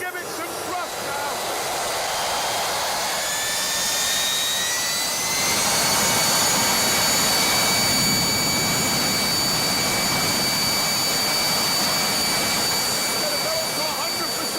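A big jet engine is lit and throttled up toward full thrust, filling the space with a loud, steady roar. A rising whine climbs partway through as the power builds.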